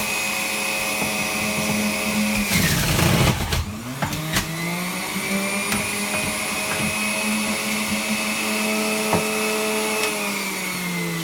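A motorized juicer grinds through cucumber, a steady loud whining hum with a harsh crunching surge partway through as the cucumber feeds in, then the motor settles back to an even drone.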